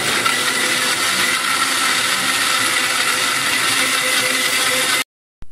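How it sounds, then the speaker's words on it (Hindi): A blender whirs through a strawberry smoothie with yogurt and ice: a loud, steady grinding roar that runs unbroken for about five seconds, then cuts off abruptly. "साथ ही आपने बर्फ डाल देनी है अगेन ब्लेंड कर"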